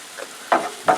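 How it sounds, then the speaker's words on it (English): Paprika and cumin roast in a hot pan before ground beef goes in, with two short sizzling bursts as the spices are stirred, close and fairly loud. "Let those roast for a little bit."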